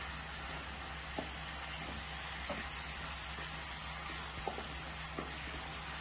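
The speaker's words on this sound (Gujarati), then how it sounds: "હવે એમાં આદુ મરચાં અને લસણની પેસ્ટ ઉમેરીશું જે બે ટેબલ સ્પૂન જેટલી છે પાછું એને હલાવી લઈશું" Ginger, chili and garlic paste sautés over medium heat in a pan with onion paste, giving a faint, steady sizzle broken by occasional soft clicks of a spoon stirring.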